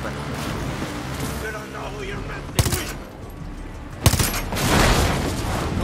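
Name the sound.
gunfire in Far Cry 6 video game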